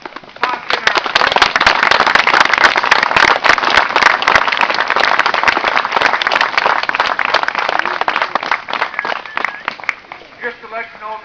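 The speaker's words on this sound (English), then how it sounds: "give a great big round of applause to the posse in our group" An audience at a live show gives a sustained round of applause, dense, crackling clapping that stays loud for several seconds before thinning out and fading near the end.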